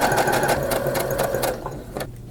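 A sewing machine stitches a half-inch seam on a hat in a quick burst of rapid mechanical clatter that slows and stops after about a second and a half, followed by a brief pause and a single click.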